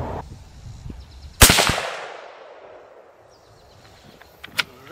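A single sharp rifle shot from a 6.8 Western rifle firing Browning 175 grain ammunition at a 100 yard range, loud and close with a long rolling echo, followed by a faint distant impact crack.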